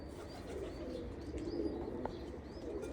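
Pigeons in a breeding loft give soft, low coos, some overlapping, with faint chirps and a light flutter in the background and no voices.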